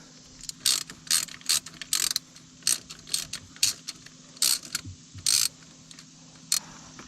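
A ratchet wrench unbolts a hose on a 2021 Can-Am X3 side-by-side, giving close, crisp bursts of rapid clicking separated by short pauses, with no talking.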